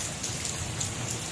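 Steady rain falls on a hard surface close by, a dense, continuous patter with no pauses and no voices.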